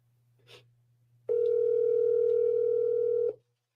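A telephone dial tone plays on a phone call: a steady, loud electronic hum held for about two seconds, then cut off abruptly, preceded by a faint brief rustle over a low background hum.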